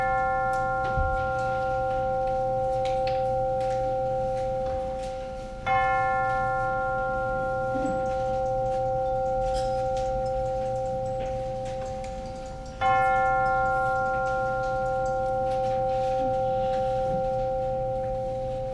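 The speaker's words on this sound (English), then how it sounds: "let us center our hearts and minds with the ringing of the chimes" Chimes rung to open a worship service in a quiet room: three separate strikes, each a clear sustained ringing tone that slowly fades, spaced several seconds apart, with faint room noise.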